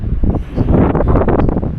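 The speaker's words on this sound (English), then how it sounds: "now it's windy, so I don't know if you're gonna hear me" Strong, gusty wind buffets the microphone with low rumbling roars that swell and fade, close and loud, no voices.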